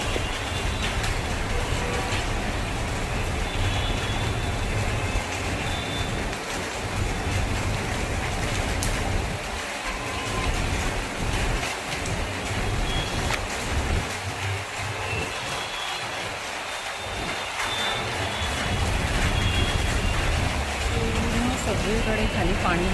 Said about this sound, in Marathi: हा पाऊस जोरात चालू आहे. हवा आणि पाऊस.